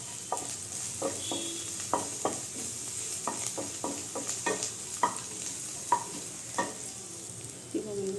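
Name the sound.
chilli chicken being stirred and fried with turmeric in pan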